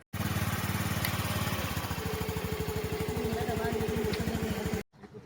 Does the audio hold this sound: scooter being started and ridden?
yes